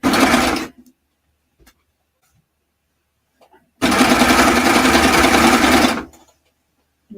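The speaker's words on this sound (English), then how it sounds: "I am sewing through a little bit of the elastic here as well, so I'm going to take my time" A sewing machine stitching slowly through elastic, two loud close bursts of rapid needle clatter, one short and one about two seconds long, separated by near silence.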